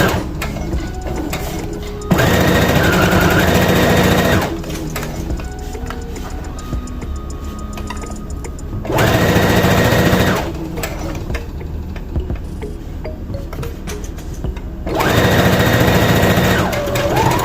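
A sewing machine stitches the sleeve of a T-shirt dress in three loud, close bursts of rapid mechanical chatter, with quieter pauses between runs.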